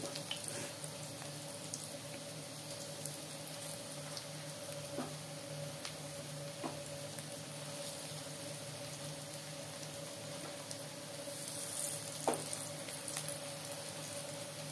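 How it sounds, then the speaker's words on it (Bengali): Onion fritters (peyaji) fry in oil, a steady soft hiss and bubbling that runs the whole time with a few faint clicks, with no talking. "আমার পেঁয়াজিগুলো অলমোস্ট ভাজা হয়ে এসছে।"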